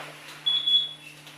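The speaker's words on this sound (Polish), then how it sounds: "Wyłączam alarm." Alarm beeping during home beer brewing while mashing malt for a Baltic porter, a thin high electronic tone in two short pulses over a low steady hum, no talk.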